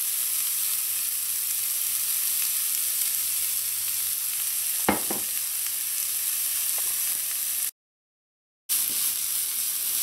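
Onions frying in a pan for fish choka, a constant broad sizzle with a couple of brief clinks midway, steady and close, with a short silent gap near the end.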